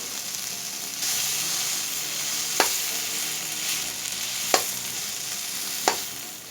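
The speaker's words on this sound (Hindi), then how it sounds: "अब मैं इसी कढ़ाई में ये मावा को थोड़ा सा भून लेंगे।" Homemade khoya (mawa) sizzles steadily in a hot kadai as it is roasted and stirred, with a few sharp scrapes of the spoon against the pan over the continuous frying hiss.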